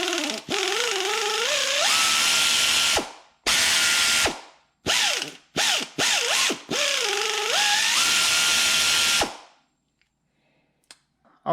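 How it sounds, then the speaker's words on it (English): An Aircat 1/4-inch air ratchet whirs loudly in several bursts, a long run, a few short pulses, then another sustained spin, with pitch shifting as the trigger is feathered before it falls quiet. "let's take a look at how well the air ratchet works"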